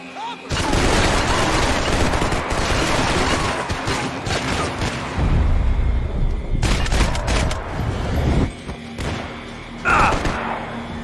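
Heavy gunfire fills a Max Payne 3 firefight, dense continuous volleys and booming shots layered over game noise for most of the stretch, easing briefly before another burst, with voices speaking intermittently.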